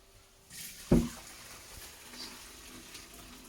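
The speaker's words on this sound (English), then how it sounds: "And then drain my noodles." Water gushes as cooked hand-pulled noodles are drained into a colander in a home kitchen, starting with a sharp splash and thump, then a faint, steady pour and trickle.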